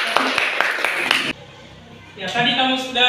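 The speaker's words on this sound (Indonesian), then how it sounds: "tepuk tangan dulu untuk anak Ica" A few sharp, rhythmic hand claps ring out close by in a classroom applauding a student, stopping abruptly, followed by a quiet gap before a teacher's voice speaks.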